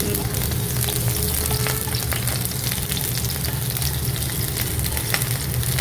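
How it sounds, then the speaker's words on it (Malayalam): Chopped garlic frying in hot oil for chow mein noodles, a steady dense sizzle that holds close and loud throughout with faint stirring clicks and no talking. "എണ്ണ ഒന്ന് ചൂടായ ശേഷം ആദ്യം വെളുത്തുള്ളി ഗാർലിക് കട്ട് ചെയ്തത്"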